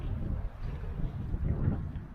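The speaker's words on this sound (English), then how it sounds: "we had that little gust of wind" A gust of wind sweeps across a river during a cold-weather paddle on inflatable paddleboard and kayak, a steady low rumble of wind buffeting the microphone with no talking.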